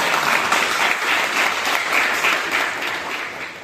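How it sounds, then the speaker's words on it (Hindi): Loud, sustained applause from fine arts and drama students filling a university department hall, dense steady clapping that fades slightly toward the end. "सभी विद्यार्थियों ने एक बार जोरदार तालियों से स्वागत किया"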